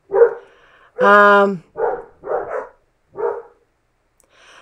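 Two dogs bark at a mailman in a quiet home, about five loud, close barks at irregular intervals, one drawn out into a higher whining yelp, with a brief word spoken at the start.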